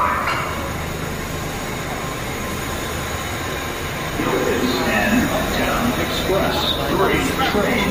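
Vintage subway train from the New York Transit Museum rolling past on a holiday run, a loud continuous rumble of wheels and cars that grows louder midway, with people talking over it.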